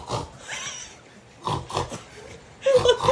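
A person imitates a pig's oink with short, snorting, nasal grunts in separate bursts, near and fairly loud, with brief voiced sounds between them.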